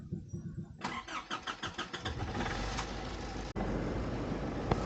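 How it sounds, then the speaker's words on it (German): A motorhome engine cranks in a rapid rhythmic series of starter pulses for about two seconds, then catches and settles into a steady, fairly loud idle that runs on to the end. "Dann machen wir mal Motor und Klimaanlage an."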